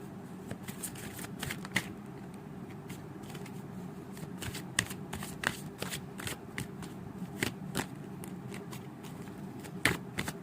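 Tarot cards are shuffled in a long run of quick riffling and flicking bursts, close and fairly quiet over a low steady hum, with no talking.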